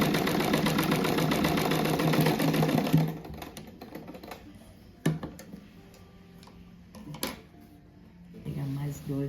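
Sewing machine runs steadily for about three seconds stitching denim from old jeans into a rug, a fast mechanical whirr that then stops, leaving a few sharp clicks and handling sounds.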